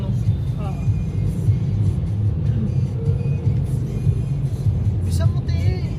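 Busy street traffic in Quezon City, Philippines: a dense rumble of cars and engines with occasional horn-like tones, steady and close, with voices talking over it.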